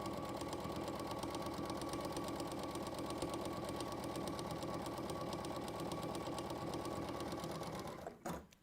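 A sewing machine chain piecing fabric at a quarter-inch seam, running in one continuous fast mechanical whir with rapid needle ticks, close up and steady before stopping abruptly near the end, no speech.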